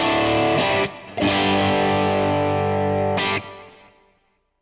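Electric guitar run through a Quad Cortex capture of a Black Eye Boost pedal, giving a loud, sustained, saturated tone. Chords ring out with a brief gap and a second break before the sound decays to silence.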